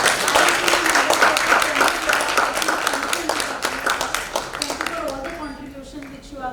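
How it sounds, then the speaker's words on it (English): A conference audience at a valedictory session and book launch applauds steadily while a person speaks over the clapping, which gradually thins out toward the end. "More round of applause"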